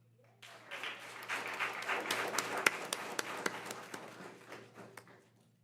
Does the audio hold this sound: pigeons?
no